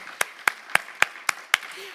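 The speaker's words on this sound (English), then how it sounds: "A big round of applause to our excellent speakers." Six slow, evenly spaced sharp claps at a Bucharest diplomatic forum panel, a single pair of hands or a thin scattering of applause for the speakers, fairly close and isolated against quiet.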